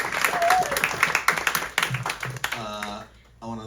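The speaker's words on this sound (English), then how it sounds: "you can clap for them" An audience claps at a gathering, the sharp irregular claps ringing out fairly close and loud, with voices talking over them and the clapping thinning toward the end.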